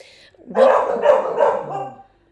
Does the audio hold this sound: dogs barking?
yes